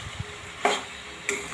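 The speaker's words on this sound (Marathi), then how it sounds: "आता एकसारखा हलवून घेते" A utensil scrapes and stirs food in a cooking pan, two distinct strokes over a faint background sizzle, close and brief.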